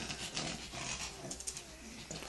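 A dog snarls with rough, labored breathing, sounding as if it has a throat or lung problem; faint, uneven grunts and wheezy pants come in short bursts close by, with no talk.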